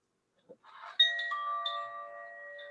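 A meditation chime is struck once and rings with a clear, sustained metallic tone that slowly decays, following a faint soft knock. No one speaks over it.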